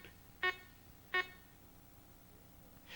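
Two short electronic beeps sound about a second apart as keypad buttons are pressed on a Garrett Magnascanner CS500 walk-through metal detector, followed by a low steady background hum.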